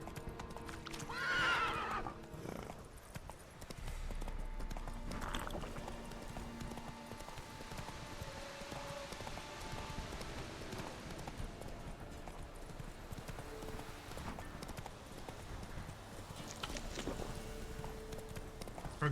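Roach the horse gallops in The Witcher 3, steady clip-clop hoofbeats running throughout with a couple of loud whinnies near the start, over a busy game soundscape with background music.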